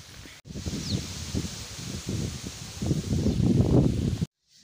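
Strong cyclone wind rushes through coconut palm fronds in close, continuous gusts, the dry rustling swelling louder toward the end before cutting off abruptly.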